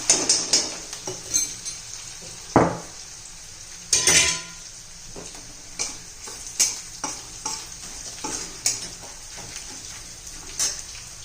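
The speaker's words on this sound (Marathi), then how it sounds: "टाकून घेऊया आपण लसूण मिरची आणि कढीपत्ता" Garlic, green chili and curry leaves frying in oil, a continuous sizzle broken by regular stirring scrapes and utensil clicks against the pan, with a few louder crackling bursts.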